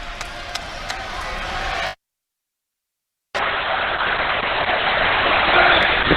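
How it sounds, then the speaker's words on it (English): A gym crowd roars during a high school boys basketball game between Roosevelt and Grant, a dense wash of cheering that cuts out for a moment and then resumes as loud as before. "The crowd making their presence known."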